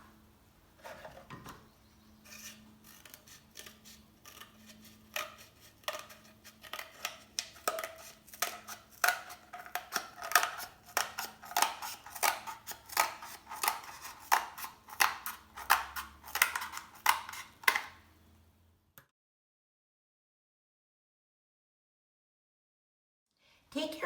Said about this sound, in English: Take your scissors and cut your cardboard tubes down the middle in half.